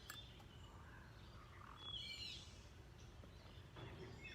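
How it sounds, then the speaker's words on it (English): Morning birdsong outdoors in summer heat, scattered chirps and short calls drifting over a steady hiss of open-air ambience, fairly faint and distant, with no talking. "And I'm with a lot of birds."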